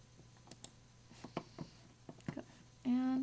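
Mouse clicks while using an eyedropper tool, several sharp, quiet clicks scattered irregularly at close range, followed by a voice starting to speak at the end.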